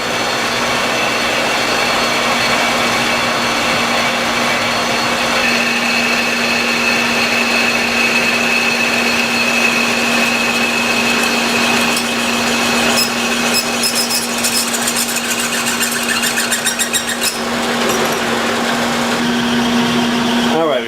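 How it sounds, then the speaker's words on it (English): A steady high-pitched machine whine of a drill cutting a countersink in a bronze casting runs throughout, loud and continuous, with a constant hum and a brief change near the end. "we're going to put our tool in, and I'll show you that next, of how we're going to create the countersink"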